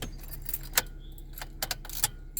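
A car key pulled from the ignition of a vehicle with a remote starter and factory lock bypass installed, giving a close, clear jangle of the key ring in a few short rattling bursts.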